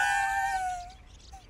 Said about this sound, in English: Oh, I heard a cat.